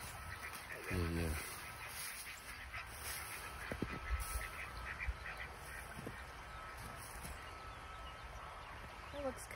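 Wild geese honk in a backyard near a creek, a few short nasal calls standing out over quiet background, with brief speech from a person in the middle.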